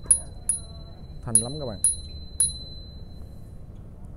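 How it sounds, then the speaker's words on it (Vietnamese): A Japanese Bridgestone electric bicycle with a 36V motor rings its bell five times, each a bright, clear ding with a short ringing tail; someone speaks briefly between the rings. "Chuông, nó chuông cũng rất lạ ha."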